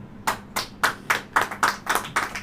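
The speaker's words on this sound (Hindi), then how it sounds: "ताली बजाओ" Congregation at a church sermon clapping hands together in a rhythmic beat, about nine distinct unison claps, fairly close and clear against a quiet low hum, with no talking.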